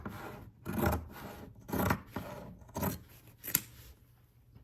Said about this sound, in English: let's go ahead and cut those with our pinking shears